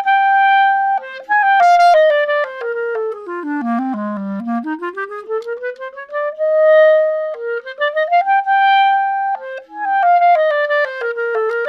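A clarinet with its reed fitted plays a smooth melodic phrase that dips down into its low register and climbs back up. The notes are clear, close and unaccompanied.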